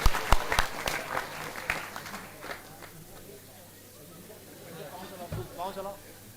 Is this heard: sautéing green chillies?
no